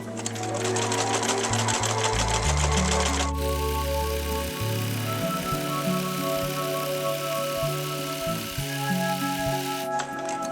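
Sewing machine doing continuous-line free-motion stitching on a quilt, a close, steady whirring hum with fast repetitive needle ticking that shifts speed partway through and runs almost without pause.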